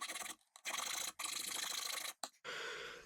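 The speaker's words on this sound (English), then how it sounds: "This is a round wood rasp." Round wood rasp filing a wooden slingshot, a series of coarse scraping strokes in bursts with brief pauses between them, close and fairly loud.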